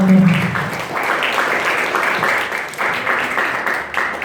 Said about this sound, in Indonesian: Sekali lagi kasih tepuk tangan yang meriah untuk pembicara kita.